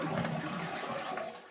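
A concealed cistern toilet flushes after its flush valve has been replaced, a loud close rush of water that tapers off gradually over the short stretch with no talking.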